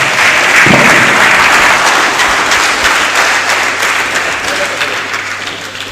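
An audience applauds after a speech at a national youth dialogue on reforms in The Gambia, a loud, dense, sustained clapping that gradually eases toward the end.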